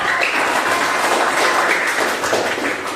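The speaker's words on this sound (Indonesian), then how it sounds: "tepuk tangan dong" Classroom applause for a student during a sociology lesson: a short burst of steady, fairly close clapping from a group of students, fading slightly at the end, with no voices over it.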